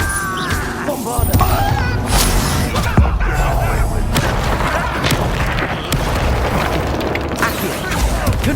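A Bombarda spell explosion in the video game Hogwarts Legacy, with booming blasts and crashing debris among dense combat effects, loud and layered under a voice speaking.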